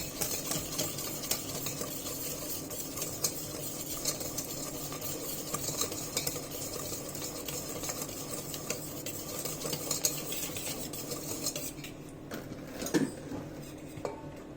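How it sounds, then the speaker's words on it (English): Cocoa powder is whisked into cake batter in a bowl, a continuous quiet scraping and clinking of whisk against the bowl, steady and close, with no voices. "Add 1 big spoon of cocoa powder and keep whisking."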